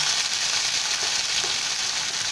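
Two onions sizzling in hot oil with tempering spices for achari begun aloo, a dense, steady hiss of frying that stays loud and even throughout with no voices.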